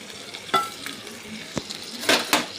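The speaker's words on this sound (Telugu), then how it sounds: "వాటిని ఒక బాండీ తీసుకొని అందులోకి వేసుకొని కొంచెం ఆయిల్ వేసుకొని బాగా వేయించుకోవాలండి" Green chillies frying in oil in a kadai, sizzling and spattering while a ladle stirs and scrapes the pan in a few distinct strokes.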